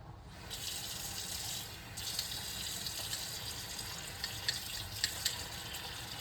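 Water runs steadily from a tap into a sink, a continuous hiss and splash with a few brighter drips and splashes toward the end.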